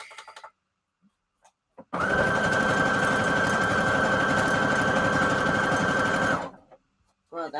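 A sewing machine runs steadily for about four seconds, stitching a zigzag pattern on scrap fabric for a junk journal cover, loud and close with a constant whirring motor tone, with brief handling noises before and after.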